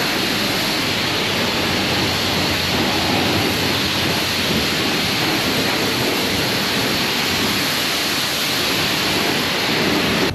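Water sprays hard and continuously onto a dirty Lamborghini Aventador SVJ during a wash, a loud, close, unbroken hiss with no talking.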